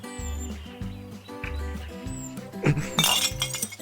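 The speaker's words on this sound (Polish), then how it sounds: "Wrzuć go do pojemnika ze szkłem." Glass clinks and breaks as a glass bottle neck drops into a glass recycling container, a short bright shatter near the end over a busy cartoon-style music bed.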